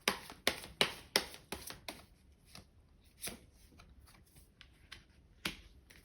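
Tarot cards are riffled and drawn during a reading: a quick run of sharp crisp shuffling snaps at the start, then sparser light card taps and slaps, close and quiet with no talk.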